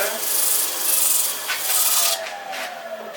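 A drill-mounted round sanding disc rubs across wood in woodturning, a rough, hissing scrape that rises and falls in several strokes, close and fairly loud.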